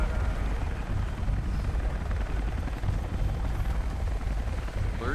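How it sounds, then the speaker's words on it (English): Constantine's helicopter in a Tomb Raider video game roars with a dense, steady rotor rumble, loud and close, with no voices over it. "That was Constantine's chopper."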